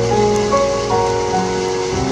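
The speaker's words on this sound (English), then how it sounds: "Now it's just raining." Steady rain falls in San Diego just after a hailstorm, an even, close hiss of drops on surfaces with no break.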